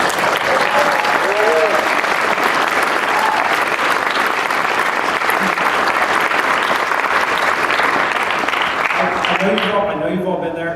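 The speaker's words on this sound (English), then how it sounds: "I would like to get a round of applause for my wife" Loud, sustained applause from a large crowd at a pinball talk at PAX East 2013 fills the whole stretch, with scattered cheers and a voice briefly rising near the end.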